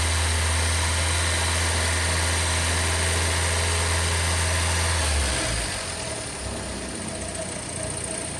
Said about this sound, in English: So I'm just revving it up